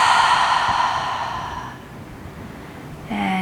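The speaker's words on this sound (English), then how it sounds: "Exhale through the mouth." A long, slow exhale through the mouth during a yoga breathing cue, close and soft and fading out over about two seconds, followed by a brief sound at the end.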